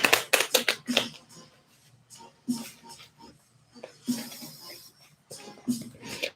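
Tarot cards are shuffled by hand in quick bursts of riffling and snapping, several separate flurries with short pauses between, close and crisp.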